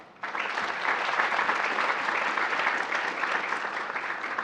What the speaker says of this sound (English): We give these folks one more round of applause, please.